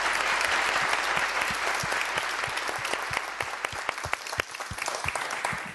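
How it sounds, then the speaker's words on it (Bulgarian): Audience at a TV music show bursts into loud, sustained applause, dense clapping that thins toward the end into scattered individual claps. "Аплодисменти за Ваня."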